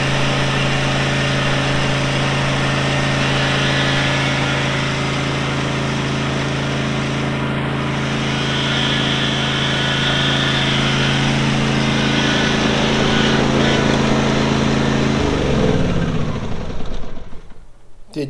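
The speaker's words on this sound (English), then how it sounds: "So that's a flail mower. Sort of like a bush hog kind of thing." A Kubota tractor pulling a flail mower runs with a steady, loud engine drone and a constant mechanical whir close by, winding down and cutting off near the end.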